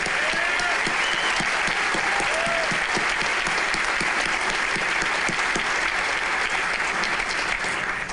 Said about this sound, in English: That alone is worth a round of applause.